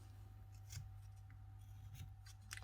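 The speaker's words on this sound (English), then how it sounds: "we're just going to follow this pencil line with our knife. And then we're just going to cut up to that line" A knife whittles wood along a pencil line while carving a small Halloween ghost, giving faint, sparse scraping cuts over a low steady hum in a quiet room.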